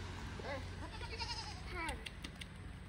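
Nanny goats being led along bleat several times in short wavering calls at a moderate distance, fairly quiet, while a person talks over them.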